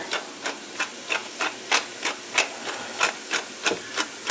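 A pepper mill grinds fresh cracked black pepper with about twelve evenly spaced crunchy twists, each a short gritty burst, close and moderately loud.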